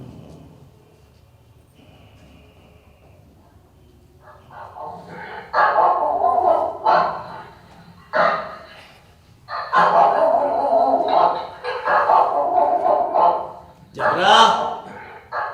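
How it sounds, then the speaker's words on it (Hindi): A dog barks repeatedly on a cold winter night, in a series of sharp, loud barks and yelps that come in irregular bursts at close range after a quiet start, with a voice talking among them. "भौंक भौंक के नींद खराब कर दी"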